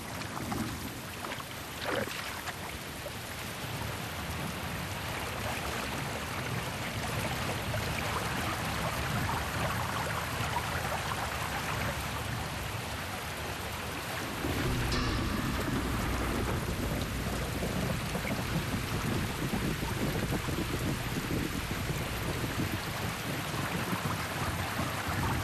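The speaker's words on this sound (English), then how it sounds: "The heavens erupt. Rains saturate the desperate lands," Heavy rain pours steadily over Mashatu, Africa, while thunder rumbles low beneath it, the downpour growing louder and denser partway through; no one speaks.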